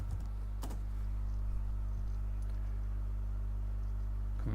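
Someone typing a search on a computer keyboard: a few sparse key clicks over a steady low electrical hum, quiet and close, with no talking.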